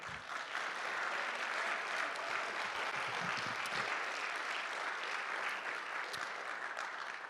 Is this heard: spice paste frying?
no